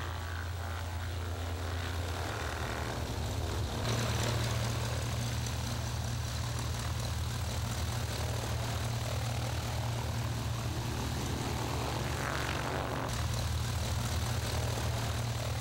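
An air force trainer aircraft readies for takeoff, its propeller engine droning steadily and loudly throughout, with a brief surge in intensity partway through.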